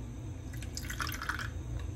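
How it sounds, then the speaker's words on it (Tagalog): A little water is poured into eggs in a bowl for a breakfast dish, heard as a brief, soft trickle and faint drips near the middle, quiet and close, with no talking. "para maging soft ang ating egg, lagyan natin ng konting tubig."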